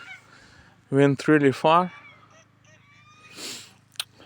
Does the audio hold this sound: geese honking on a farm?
yes